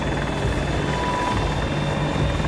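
Helicopter in the video game Battlefield 2042, a steady loud rotor and engine drone with a constant whine, running continuously and close throughout.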